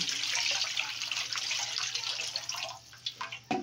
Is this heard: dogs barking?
no